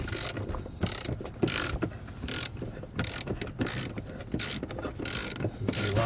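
A long screw is backed out of the rear seat of a Chevy Avalanche with a ratchet, giving bursts of rapid clicking ratchet turns separated by short pauses, close and fairly quiet, with no voices.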